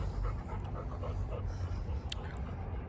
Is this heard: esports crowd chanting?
no